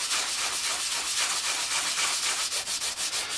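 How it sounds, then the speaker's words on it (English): A Scotch-Brite pad scrubs a part during a 408 engine water pump install, a close, continuous abrasive rubbing hiss with quick back-and-forth strokes that grow more rhythmic toward the end, without talking. "a little Scotch-Brite will clean it right up"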